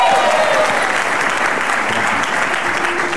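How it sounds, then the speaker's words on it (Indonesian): Studio audience applause on an Indonesian television comedy talk show, loud and dense clapping that holds steady throughout, with a faint tone sounding beneath it. "Tepuk tangan dong yang mulia."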